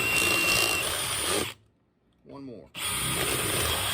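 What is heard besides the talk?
power drill boring holes for tomato cuttings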